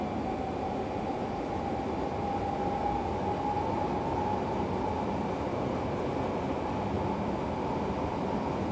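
Train running on the Leipzig–Riesa route in Train Simulator Classic, a steady, even rumble of rolling wagons with a faint high whine from the cab, heard continuously with no pauses.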